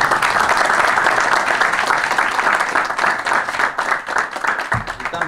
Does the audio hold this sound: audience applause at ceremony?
yes